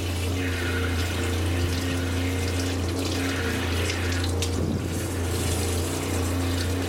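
Water runs steadily from an RV tap, a constant close splashing rush with a low pump hum underneath and no talking.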